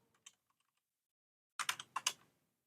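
Keys tap on a computer keyboard in a quiet room: a few faint scattered clicks at first, then a short burst of five or six louder, closer keystrokes near the end.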